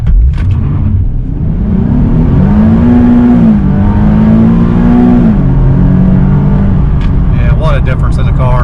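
Nissan 370Z fitted with a Pedal Commander PC51 throttle controller, engine revving up and holding a steady rising drone for several seconds, loud and close with no talk.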